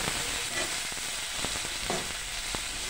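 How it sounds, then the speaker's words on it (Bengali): Onion, garlic and ginger frying in a generous amount of oil for an egg curry, a steady close sizzle with occasional stirring clicks and no talking. "আমি এখন পেঁয়াজ রসুন এবং আদা ভেজে নিব।"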